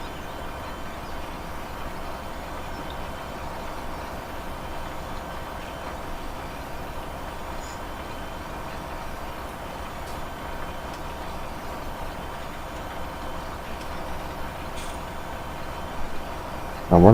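Articulated pivot-body tractor in Farming Simulator 17 on a Romanian farm, a steady low diesel engine drone holding constant throughout, with no talk.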